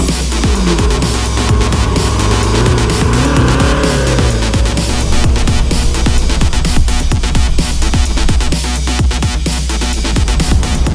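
A supercar driven on a road in its relaxed Strada mode, its engine roaring loud and close throughout with rising and falling revs and quick gear changes, no voices over it.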